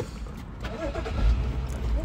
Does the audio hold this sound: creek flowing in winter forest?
no